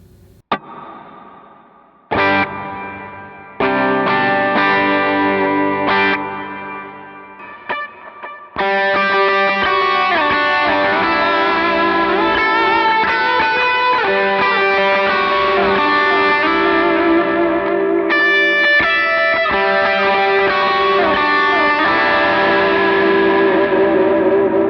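Guitar played through a Glitz reverb model on a Line 6 Helix, a few sparse plucked notes at first, then sustained chords washed in bright, shimmering reverb that swells and rings out continuously, loud and alone.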